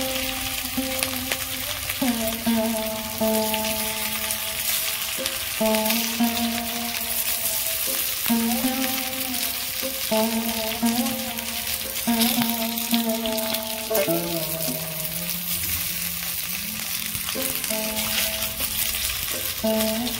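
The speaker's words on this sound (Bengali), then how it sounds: "এবার আমি বাঁধাকপির পনিরগুলো ভেজে নেব।" Pieces of cabbage paneer frying in hot oil in a heated pan: continuous bubbling sizzle for about twenty seconds, overlaid by a repeating hum-like tone that drops and restarts every few seconds.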